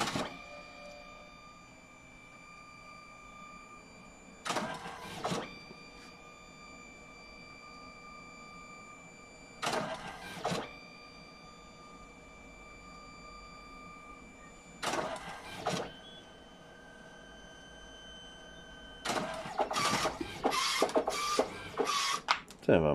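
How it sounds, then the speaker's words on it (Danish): A kiosk photo printer runs through a print job, with a steady low mechanical hum broken by four loud whirring bursts at regular intervals, the last one longer and busier. "Og så begynder den at printe dem ud til mig her med det samme."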